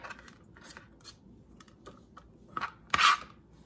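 A knife chops vegetables on a board for a chicken stir fry, a sparse series of soft, uneven taps and scrapes, quiet and close, with one firmer cut near the end.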